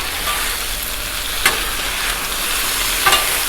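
Potatoes and smoked sausage sizzle steadily in hot oil on a Blackstone griddle, with two sharp scrapes of a spatula tossing the food, the frying hiss continuous and close throughout.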